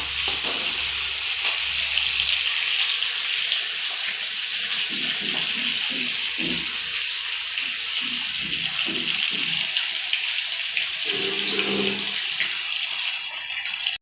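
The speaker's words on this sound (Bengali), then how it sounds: "ফোড়নটা আমি লাল লাল করে ভেজে নেব।" Whole spices for a tempering fry in oil for a rohu fish curry, giving a loud, steady, close hiss of sizzling that runs continuously, with a few soft stirring knocks and clinks; no one speaks.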